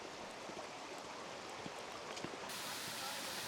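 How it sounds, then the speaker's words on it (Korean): Clear water runs through a small gorge beside a forest trail, a soft, steady rushing hiss heard faintly and continuously. "협곡 오른쪽에는 맑고 깨끗한 물이 흐르고 있고요"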